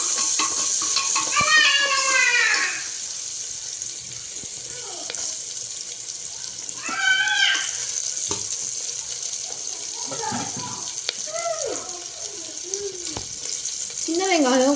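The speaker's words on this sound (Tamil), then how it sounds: "சின்ன வெங்காயம் போட்டு நல்லா மிக்ஸ் பண்ணிக்கோங்க" Small onions (shallots) stirred and scraped in a pan for a quick pressure-cooker sambar, with a soft sizzle and repeated squeaky, swooping scrapes of the spoon in short bursts.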